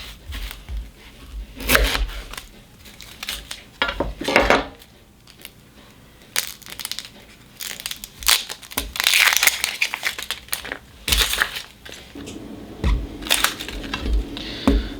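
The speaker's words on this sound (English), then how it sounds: "So I'm just doing a real quick, simple cut on these onions, not messing around, just cutting off and taking off the outer layer and the skin." A knife cuts through onions and peels away the dry outer skin on a board, with irregular crunchy chops, crinkly papery rustles and occasional knocks, close and moderately loud without talking.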